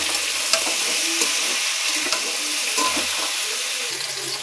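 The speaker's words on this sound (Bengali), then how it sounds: "আগে এরম করে নাড়াচাড়া করে নিয়ে তারপর লবণ দেবো।" Vegetables frying in a pan and turned over before any salt goes in, a close, steady sizzle with scattered light scrapes of the spoon.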